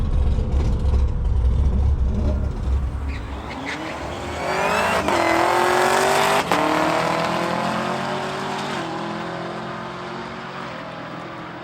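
A cheap Ford Mustang accelerating down a drag strip, a loud engine roar climbing in pitch through several quick gear changes, then fading into the distance, with no talking.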